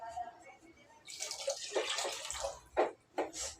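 Water pours into a pressure cooker pot in a short splashing stream, stopping and starting in a few bursts, close and fairly loud, with no talking.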